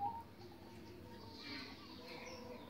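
A zebra dove (perkutut) coos softly in a few faint, low, rounded notes against quiet background hiss, heard from a modest distance.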